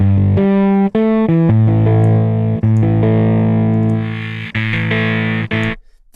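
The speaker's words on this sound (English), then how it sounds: "And the combination of distortion and an amp is just great." An electric guitar played through distortion and amp convolution presets in the Unify plugin, with a series of sustained, heavily distorted chords and notes changing every second or so, loud and alone with no talking.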